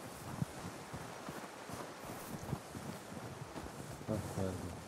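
A horse in Red Dead Redemption 2 gallops up in answer to a whistle, with soft hoofbeats and wind noise running steadily throughout, close and moderately loud.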